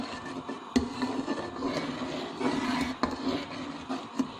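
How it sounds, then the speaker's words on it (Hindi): A spoon scrapes and stirs kadhi curry boiling in a pot, giving soft rubbing, scraping strokes with bubbling underneath, at a quiet, close, steady rhythm with a few sharper knocks. "जब ये बॉयल आते हैं तो इस पर चम्मच चलाते रहना है"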